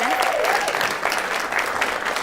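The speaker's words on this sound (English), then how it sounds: "So maybe just a round of applause for the whole team." An anniversary gathering at a custom software company breaks into a short burst of applause for the whole team, dense clapping with voices and a bit of chatter blended through it.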